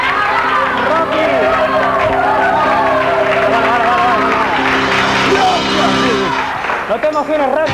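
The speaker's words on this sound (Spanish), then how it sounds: "un aplauso para él" Crowd cheering and applauding for a boxer on a stage show, a loud continuous roar of voices and clapping filling the whole stretch, with shouting over it.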